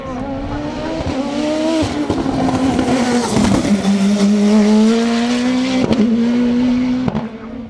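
Revolt 3P0 race car with a 1.7-litre turbo engine climbing the Col St-Pierre hill climb, engine buzzing loud and close as it revs through gear changes, with sharp pops and bangs between shifts.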